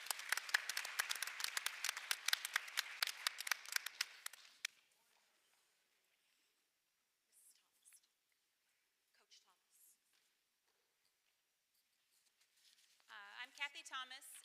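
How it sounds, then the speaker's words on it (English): An audience at a school board meeting applauds a school Science Bowl team with a burst of many hands clapping for about four seconds, then falls quiet before a person starts speaking. "Let's give them a round of applause."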